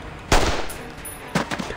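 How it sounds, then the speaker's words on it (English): Two bursts of rapid gunfire crack out in the video game Reverse 1999, one sharp volley followed after a pause by another short burst. "More gunfire thunders over and over until the last Kikituk abandoned their position."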